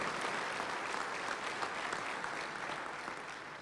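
A luncheon club crowd applauds new Southwest Conference Hall of Fame inductees, a sustained wash of clapping heard from a distance and fairly faint.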